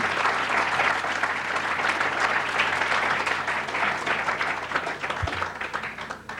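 Warm, sustained applause from an evening audience for a business school panel fills the room, a dense, even roar of many hands clapping that tapers slightly toward the end, with no talking over it.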